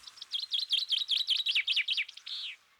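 A chaffinch sings close by: a rapid run of about a dozen bright, descending chirps accelerating into a trill, ending in a short flourish, clear against a quiet background with no talking.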